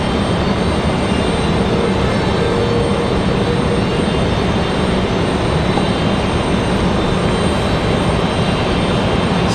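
Continuous loud roar of aircraft engines at Raleigh-Durham airport, a steady broadband drone that fills the whole span without letup and has no voices over it.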